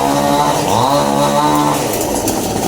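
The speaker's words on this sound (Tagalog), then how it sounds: "medyo maingay dahil nililinisan yung mga natumba dahil sa bagyong uwan" A loud chainsaw drones steadily, its pitch rising and falling as it cuts through trees felled by Typhoon Uwan, close by with no voices.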